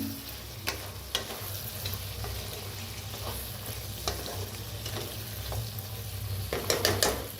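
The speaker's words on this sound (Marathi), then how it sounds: "तर आता एकदा मिक्स करून घेऊया" Cooked potatoes for sambar being stirred in a pan, a continuous close sizzle with scraping spoon strokes and a cluster of clinks near the end, no voices.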